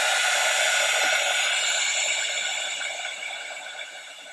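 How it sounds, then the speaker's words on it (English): A handheld heating tool blowing hot air to dry marker ink, a steady whooshing fan hiss close by that fades slightly toward the end. "So I did dry it, and it dries with the heating tool really fast."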